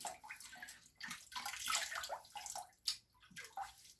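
Running water splashes and gurgles in a bathroom sink as a shaving brush's bristles are wet with lukewarm water, a steady close-up wash of sound with uneven surges.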